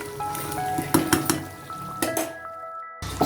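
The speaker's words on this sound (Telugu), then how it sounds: "కొంచెం వేసి చక్కగా కలుపుకుందాం." A drumstick, tomato and coconut curry is stirred in a pot, with a series of close scraping clinks and knocks of a spoon against metal over a faint sizzle, and brief pauses between strokes.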